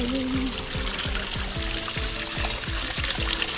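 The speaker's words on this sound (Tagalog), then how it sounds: "ang pakinggan ng lagaslas ng tubig" Water flowing and trickling steadily at La Mesa Eco Park, a continuous close splashing stream with rhythmic gurgling pulses, heard alone without talk.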